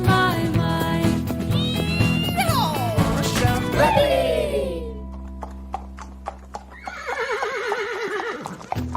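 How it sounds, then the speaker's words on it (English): Horses neigh and whinny loudly over a busy musical backdrop, followed by clip-clopping hooves and more whinnying near the end. "Horses galloping through the countryside."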